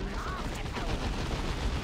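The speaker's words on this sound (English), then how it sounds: "Come on, shoot a volley." A volley of gunfire in the real-time strategy game Dawn of War 2, a steady, dense rattle of overlapping shots that is moderately loud and holds constant through the whole short clip without pauses.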